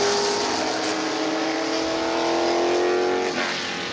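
A Lola-chassis Formula 5000 race car engine roars loud and close at a historic racing festival, a sustained high-revving drone with steady harmonics and no talk.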